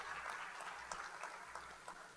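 A church congregation applauds, a faint, distant, steady patter of many clapping hands with no clear speech over it.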